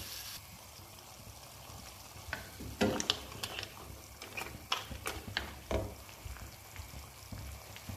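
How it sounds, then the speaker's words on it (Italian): Mussel cooking liquid poured into a hot pan of pasta and potatoes, which sizzles and bubbles while a utensil stirs and taps against the pan in a few close, quiet clicks. "aggiungo il resto del liquido di cottura delle cozze che avevo lasciato da parte"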